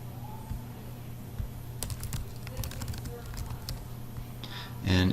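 Sparse keyboard clicks tap out in short bursts over a steady low electrical hum, ending with a louder clatter.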